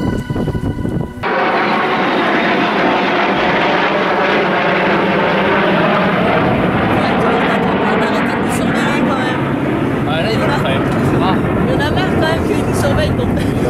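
A loud Rafale fighter jet roar that swells in abruptly and holds steady overhead, with people talking underneath the engine noise.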